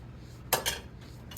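A metal whisk stirring chocolate gravy in a pan, making two quick close clinks and scrapes against the pan over a low steady hum, then a fainter tap.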